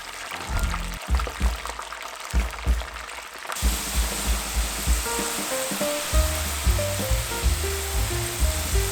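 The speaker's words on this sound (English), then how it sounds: "Once the oil is 175 Celsius or 347 Fahrenheit, we're gonna add our french fries" French fries dropped into oil heated to 175 °C, sizzling steadily with a broad bubbling hiss alone, growing denser after a few seconds as they deep-fry.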